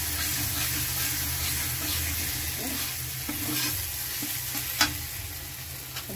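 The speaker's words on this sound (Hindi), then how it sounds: "ये देखिए मेरा मसाला अच्छे से भून चुका है।" Masala paste for okra sabzi fries in a pan. A close, steady sizzle continues throughout with soft stirring scrapes and a couple of small pops, and no one speaks.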